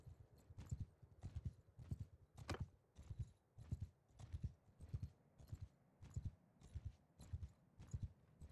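Horses in a video game trot with a steady, rhythmic clip-clop of hooves, faint and evenly paced throughout, with a brief whinny partway through.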